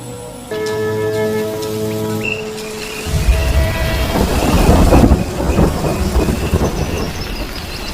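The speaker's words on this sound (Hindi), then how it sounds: "ये अचानक बारिश हो जाना सामान्य नहीं लग रहा।" A sudden rain shower on the Serengeti plains in the rainy season sets in after about three seconds as a dense, steady hiss of falling drops that grows heavier midway; no distinct thunder claps stand out.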